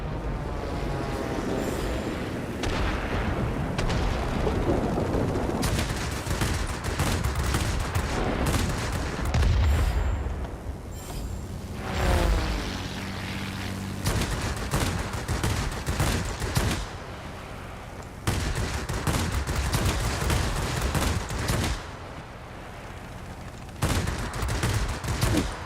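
Sustained aircraft gunfire in World of Warplanes, loud rapid bursts of machine-gun fire rattling almost continuously, with brief pauses and heavy booming impacts layered over engine drone.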